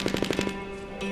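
The Stormblade sword in Fortnite Save the World sets off a fast run of about six sharp, punchy explosions in quick rhythm, then a short ringing tail and one softer hit near the end.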